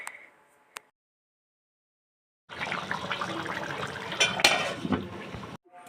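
Rice being washed with water in a cooking pot, a few seconds of continuous close splashing and sloshing after a short quiet gap with a single faint knock.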